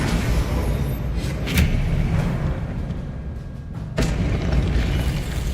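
Confringo explosion spells cast in Hogwarts Legacy combat: a couple of sharp, loud booms punch through a constant rumbling battle din, one near the start and another about four seconds later.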